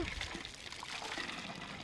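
Water trickles and pours into a cow dung slurry, a soft continuous liquid splashing and gurgling at close range, steady and fairly quiet throughout with no talk over it.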